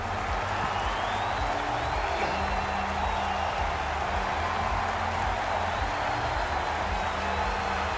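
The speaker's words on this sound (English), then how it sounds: "Crowd on their feet trying to will their team to a comeback." Hockey crowd at the Andre Cup Finals, Game 1, Seattle vs Ontario, rising to its feet at the start of the third period, a steady broad roar of cheering and clapping filling the arena without pause.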